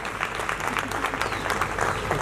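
Audience applause for panelists at a panel discussion on happiness, a steady dense clapping that fills the whole stretch at moderate loudness with no talk over it.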